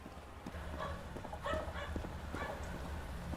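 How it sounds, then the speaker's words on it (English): A dog barking loudly outside, a few scattered barks at moderate distance over a steady low background hum, with no voices. "The dog outside is really loud."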